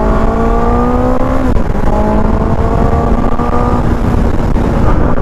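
QJ SRK 600 motorcycle with an inline four-cylinder engine revs smoothly and loudly up close, its high, fine-toned whine climbing and then easing off in several repeated pulls.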